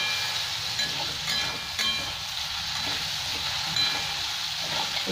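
Potatoes and onions fry in a pan for Bengali ghugni, giving a continuous close sizzle with soft hiss and occasional stirring scrapes, with no voices.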